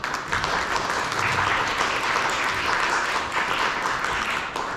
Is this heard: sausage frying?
no